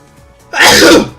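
A single loud, close sneeze bursts out after a quiet moment, sharp at the start and trailing off over about half a second.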